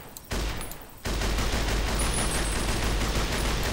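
A DP-28 machine gun in Fallout New Vegas is test fired in a dense, continuous burst that begins after a brief quiet moment and keeps going loudly to the end, with no talking.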